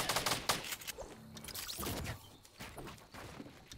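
A minigun in a video game rattles in rapid, repeated bursts of fire, close and fairly loud, with short gaps between volleys.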